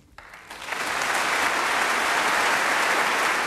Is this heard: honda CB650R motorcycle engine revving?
no